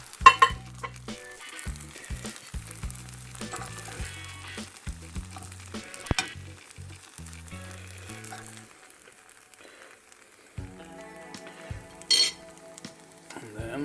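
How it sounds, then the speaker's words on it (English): Taco meat mix sizzling steadily in a frying pan, a close, continuous crackle with a few stirring clinks and scrapes against the pan. "And now we put our meat mix on there."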